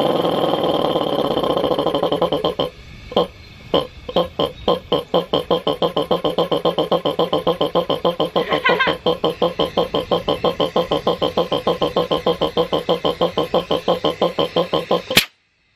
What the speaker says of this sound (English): Poor little motor. It's 1/6 horsepower.